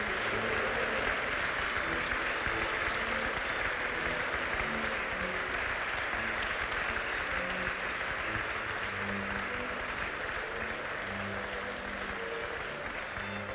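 An awards ceremony audience gives the Świętokrzyska Victoria laureates a long, steady round of applause: dense, loud, continuous clapping from a large crowd filling the hall without a break.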